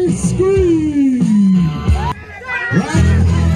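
A bull riding rodeo crowd whoops and cheers loudly, while an announcer's voice carries over the noise.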